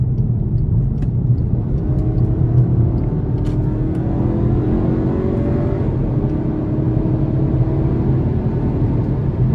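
A 2022 Volkswagen Passat SE accelerates on the road, its engine droning and rising steadily in pitch under a loud, constant cabin rumble.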